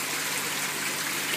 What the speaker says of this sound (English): the water flows out of that pond into this pond